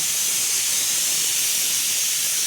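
A pressure cooker boiling potatoes on a gas stove releases a loud, continuous hiss of escaping steam that holds steady throughout, with no other sounds over it.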